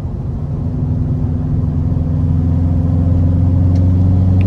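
A turbocharged Subaru WRX wagon with a VF48 turbo and ID1050 injectors makes a loud, steady engine drone with strong low harmonics during a full-throttle pull. The sound builds slightly in level toward the end.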